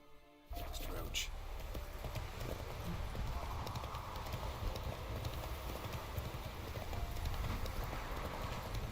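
Roach, Geralt's horse in The Witcher 3: Hearts of Stone, gallops in a steady drumming hoofbeat that runs unbroken over a wide rumbling bed of game sound.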